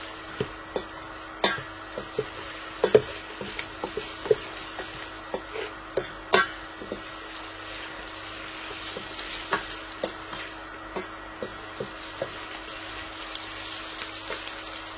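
Chicken and vegetables (spinach, eggplant, okra) being stirred in a frying pan: repeated scraping clicks of the utensil over a steady sizzle, close and fairly quiet, with no talking.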